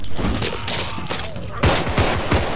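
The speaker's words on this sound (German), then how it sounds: "jetzt versuch ich gerade einen mit der Nagelpistole kalt zu machen" Nail gun firing in the zombie co-op game Contagion: a fast run of sharp, loud percussive shots, the later bursts harder and more spaced, over busy game noise and background clutter.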